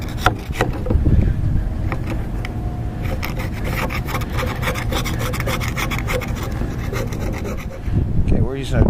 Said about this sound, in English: we're using a Dremel 511E